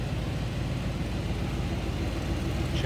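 A 1987 Oldsmobile Cutlass Salon idles, a low steady rumble heard from nearby at moderate volume, even and unbroken with no voices.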